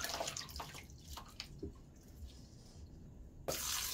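Water drains from thistles soaked in hot water and poured through a strainer, a faint splashing trickle with a few drips, ending in a louder rush of pouring.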